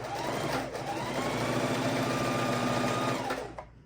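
A sewing machine runs steadily while stitching quilt border pieces for a pastel house quilt, a close, even mechanical whir that holds for about three seconds and then stops.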